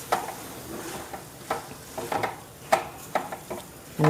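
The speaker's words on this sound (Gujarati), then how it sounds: "આ સ્ટેજ ઉપર હું પનીર પણ અંદર એડ કરી દઉં છું" Paneer cubes are stirred into spiced palak paneer masala in a pan: a soft sizzle runs beneath repeated spoon scrapes and clinks against the pan at an uneven pace, close by.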